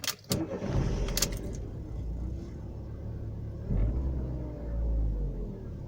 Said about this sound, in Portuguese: O barulho do motor, ele chega dentro do carro.